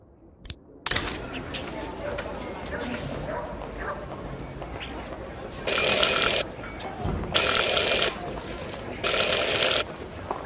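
A door bell in the puzzle adventure game Syberia: The World Before rings three times, each ring a bright sustained metallic burst of about a second with short gaps, loud and close after quieter ambient game sound and a brief voice.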